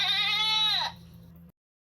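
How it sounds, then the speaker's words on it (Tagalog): A single goat gives one clear, wavering bleat close by, lasting under a second. A faint steady hum continues briefly afterward, then everything cuts to silence. "parinig nga ng boses ng kambing ko"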